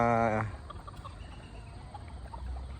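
Chickens cluck at feeding time, beginning with a short loud harmonic call, then scattered soft clucks and pecking sounds at close range over a quiet farmyard background.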